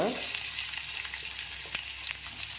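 Four chopped onions sizzle and crackle steadily in hot oil for tamarind curry, a loud, close frying hiss with occasional stirring scrapes.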